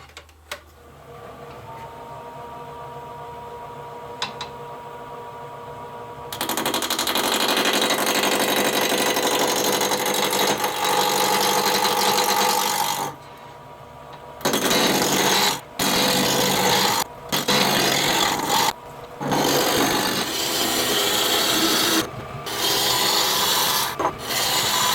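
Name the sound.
wood turning on a lathe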